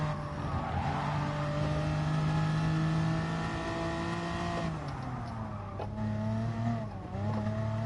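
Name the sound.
race car engine at full throttle in Gran Turismo Sport video game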